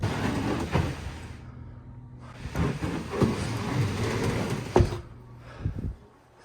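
Wooden drawers in a DIY truck-bed storage system for a second-generation Toyota Tacoma slide open and shut, giving several rumbling runs with a sharp knock near the end, close and fairly loud.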